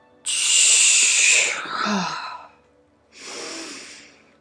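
A deep, drawn-out exhale during a guided breathing meditation, a long breathy rush that tapers off, followed by a second softer breath a moment later, close and alone.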